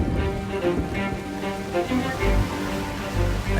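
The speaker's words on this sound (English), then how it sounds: "Spring rain speeds up the process." Steady spring rain falls in the Canadian wild, a dense even patter on surfaces that holds at a constant level throughout.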